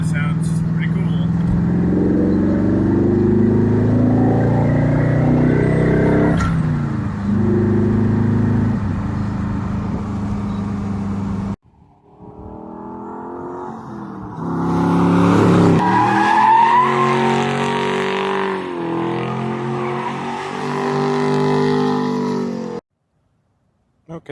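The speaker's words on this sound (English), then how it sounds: "we're just now driving the LS swap Ford Focus." Ford Focus with a swapped LS V8 roars loud and close while driving, the engine rising and falling through gears, with a voice talking over it.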